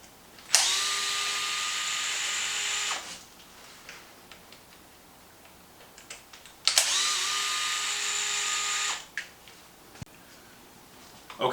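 A power driver backs screws out of the front A-arms of a Traxxas Maxx RC truck in two steady, whining bursts of a few seconds each. Light clicks and handling noises sit between the bursts.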